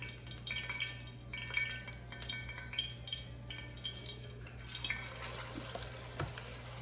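Water drips and trickles in a home kitchen during cooking, a run of small irregular splashes over a steady low hum, fairly faint and with no one talking.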